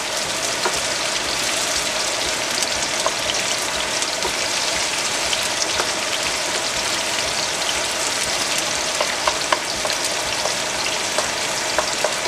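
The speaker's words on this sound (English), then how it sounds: "the chopped onion in, and then we're going to stir it up along with the scallion" Chopped onion and scallion sizzle and crackle steadily in a hot pan as they are stir-fried for scallion noodles, a loud continuous frying hiss with small pops throughout.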